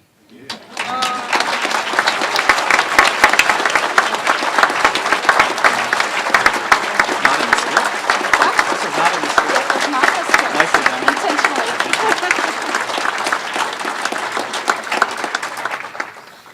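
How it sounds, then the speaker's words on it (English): A ceremony audience at a university presidential inauguration applauds at length, a loud, dense, sustained roar of many hands clapping that holds steady for over fifteen seconds before tapering off. "So please join me again in applause as we invite Dr. Lawler to join me"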